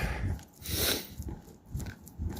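Workman's dog running loose off lead on a Russian street during road repairs, close-up snuffling, panting and rustling movement in uneven bursts, no talk.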